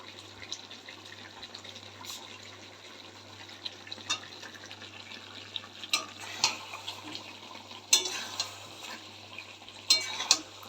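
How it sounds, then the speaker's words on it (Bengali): Potatoes being worked into chicken kosha cooking in a pan, soft sizzling under a steady hum with intermittent spoon scrapes and clinks, close and moderate in level, no speech. "আলুগুলোকে দিয়ে আমি ভালো করে কষে নেব।"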